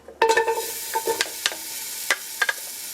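Ginger drops into hot oil and sizzles, with scraping stirs and sharp clattering taps of a utensil against the pan repeating over a constant frying hiss.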